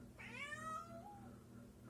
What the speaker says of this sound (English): You can cry all you want, cat.